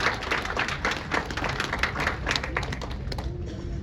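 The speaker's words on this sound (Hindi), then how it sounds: "जोरदार तालियां एक बार प्रशांत जी के लिए।" Audience applause in a hall for Prashant Mishra at an HCL Foundation clean-city event, a dense, steady patter of many hands clapping with no talk over it.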